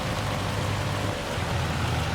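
Hail falls on a farm in Farming Simulator 25, a dense, constant hiss and patter of pellets striking surfaces, loud and unbroken, over a low rumbling drone beneath.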